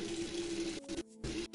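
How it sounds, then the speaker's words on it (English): Cold tap water gushes steadily into a sink close by, a continuous hiss that briefly cuts out and resumes twice, with no talk. "You guys hear the water."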